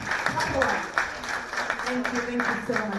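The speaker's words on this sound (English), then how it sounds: "He deserves a loud applause" An audience at an elegant evening event applauds the director with light, scattered clapping while a voice speaks over the claps close to the microphone.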